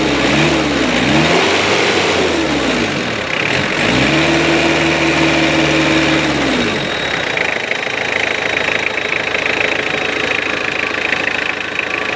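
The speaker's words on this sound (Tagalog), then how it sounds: "Kanina sa video, binibiglain mo lang ng rev, maahon na yan talagang tatalsik yan, nagbabibrate yan." A car engine with coolant gushing from the radiator revs up and falls back twice in close, loud sweeps, then settles into a steady idle for the rest of the clip.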